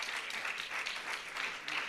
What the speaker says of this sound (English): Round of applause for Menava.